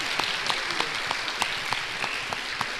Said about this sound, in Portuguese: uma salva de palmas aqui para o nosso Frei